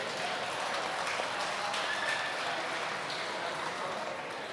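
Audience applause fills a hall at the F1 in Schools World Finals at Silverstone as Team Vision Racing is welcomed on stage: steady, dense clapping from a large crowd, continuous and fairly loud throughout.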